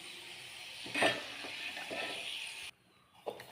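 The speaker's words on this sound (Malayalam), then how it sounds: "ഇനി നമുക്ക് ഇഞ്ചി വറുക്കാം" Ginger frying in hot oil gives off a crackling, bubbling sizzle with a louder burst of spatter near the start, then cuts abruptly before a faint return.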